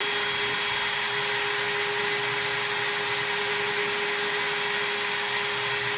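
A steady, high-pitched power drill whine runs continuously without pause at constant speed, spinning a bike drivetrain shaft for sanding, with a faint grinding hiss.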